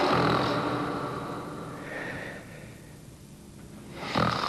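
Loud snoring from a sleeping man, measured at about 80 decibels, one long rasping breath that fades out, followed by the rough start of another snore.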